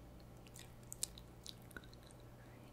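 Soft, close chewing in an alien-themed ASMR roleplay: a few faint crunchy bites and wet clicks scattered over a quiet, steady hum.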